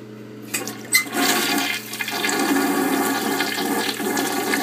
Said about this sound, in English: I'll flush it and show you how it works.